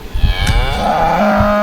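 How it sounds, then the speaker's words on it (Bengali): A single loud, close cow moo at a cattle farm in Comilla, Bangladesh, rising from a low grunt into a long, sustained bellow that holds steady to the end, with no talk. "এখানে ছোট গরু আছে, মাঝারি আছে, বড় গরু আছে।"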